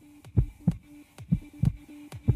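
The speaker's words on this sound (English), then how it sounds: "there's a heartbeat." A steady heartbeat sound effect with paired lub-dub thumps repeating about every half second, deep and close over a faint background hum, with no voices.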